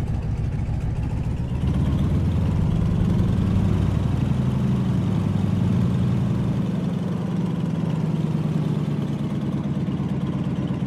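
Boeing Stearman biplane engine in Microsoft Flight, running steadily while taxiing toward the runway, a loud continuous low drone that swells slightly after the first two seconds and holds alone without talk.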